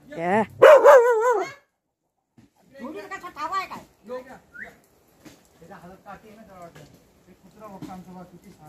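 A playing dog barks and yips in a quick burst near the start, followed by people talking with more scattered, lighter dog sounds in between, in a village near Shahuwadi, Kolhapur.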